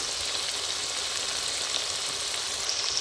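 Spice paste frying in oil after a spoonful of Kashmiri chili powder goes in, producing a steady, close, moderately loud hiss and sizzle that holds evenly throughout with no talking.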